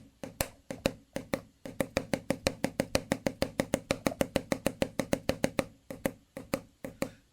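Rapid hand tapping in a steady triplet-based rhythm, a long run of sharp close knocks on a surface, alone without talk.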